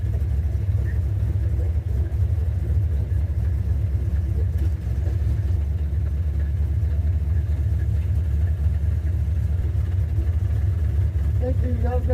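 An old car, parked since 1999, idles with a steady low engine rumble and a rough mechanical clutch noise, while people talk over it throughout.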